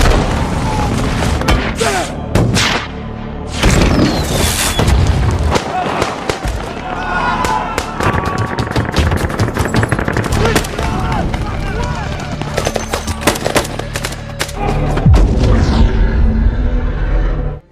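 Gunfire and explosions from a war film depicting a militant assault on a building guarded by DSS agents, with dense booming blasts and rapid shots filling the scene continuously, loud and close, with voices mixed in.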